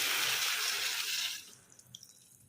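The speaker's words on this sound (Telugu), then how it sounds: "తర్వాత మనము వాటర్ వేసేసుకుందాం." A glass of water pours into a pan of brinjal in a steady rush for about a second and a half, then stops, leaving a few faint drips.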